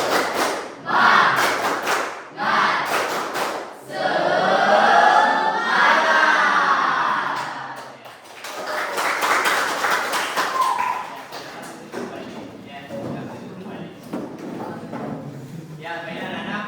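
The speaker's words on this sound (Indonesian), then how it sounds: "Ayo kita mulai is breaking. Tepuk semangat." Children in a classroom doing a rhythmic spirit clap, with sharp group claps in bursts, chanted voices between them, and an adult talking.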